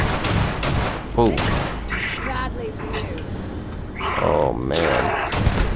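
Bursts of automatic gunfire and scattered shots ring out during a firefight in the space game Starfield, heavy and close, while a player exclaims over the shooting.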